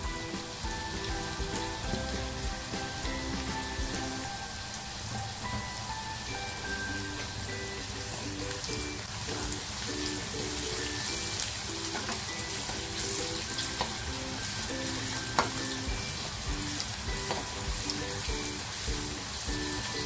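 Turmeric and asafoetida dropped into hot oil for an okra stir-fry give a steady, dense sizzle and crackle that runs the whole time without letup. No one speaks.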